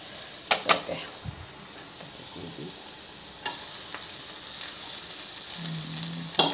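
Cooked rice frying in a pan over a low gas flame gives a steady soft sizzle, with scattered clicks and brief scraping from the utensil.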